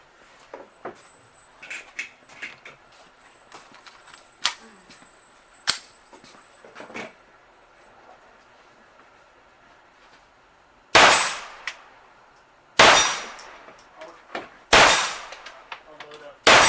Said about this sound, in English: to shoot the CCI Clean through our Smith & Wesson Model 22A semi-automatic pistol